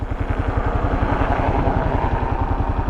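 A Kawasaki KLR 650 motorcycle riding with a steady, loud, rhythmic thumping engine drone and wind rush, heard close up without speech.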